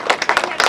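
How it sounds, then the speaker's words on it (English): A small group of people clap briefly at a fire and rescue workshop, a short, close burst of hand claps lasting under a second. "Come on, give him a little clap, man."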